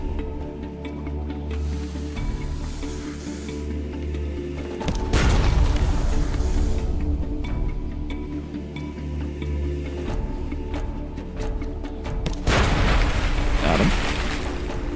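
Ship cannons firing during a naval pirate-hunting battle in the Sunless Sea video game, heard as two heavy booms around the five- and twelve-second marks over a steady low rumbling game soundscape.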